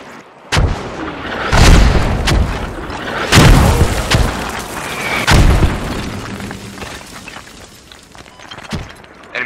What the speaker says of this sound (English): I wanted to get away from the mortars